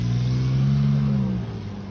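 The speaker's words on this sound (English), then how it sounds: "traffic won't cut us any slack" A car passes along the street by a front yard, its engine droning loud and close with a low steady hum that eases slightly as it moves on, with no talk over it.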